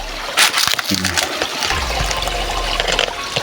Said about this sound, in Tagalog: maganda yung agos ng tubig ngayon dito